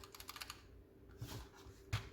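Keys are pressed on a Razer Huntsman Tournament Edition optical keyboard, a quick run of light, close clicks followed by a pause and a few heavier, more spaced presses, quiet overall.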